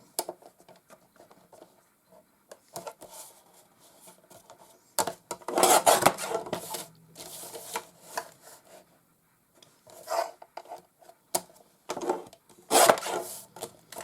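Scissors cutting through a gel press card, intermittent rasping snips and scraping strokes in short bursts with quiet pauses between, close and fairly soft.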